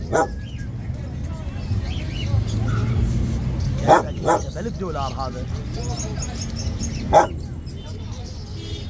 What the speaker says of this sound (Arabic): كلب اكيتا امريكي كلب اكيد امريكي سعره 1000 دولار كلب